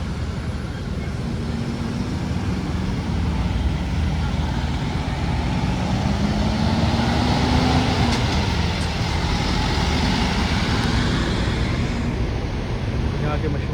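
Road traffic rumbles steadily near Tower Bridge in London, a dense continuous roar of passing vehicles with an engine rising in pitch midway, close and loud throughout.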